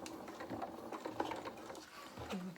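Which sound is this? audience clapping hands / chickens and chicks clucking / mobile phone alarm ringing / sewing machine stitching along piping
sewing machine stitching along piping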